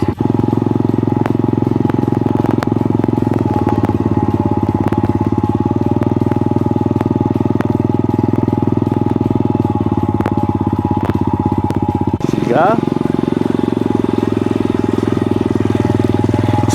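A Yamaha motorcycle engine, started in neutral, runs steadily at a loud, close idle with an even low rumble throughout, briefly shifting in tone near the end.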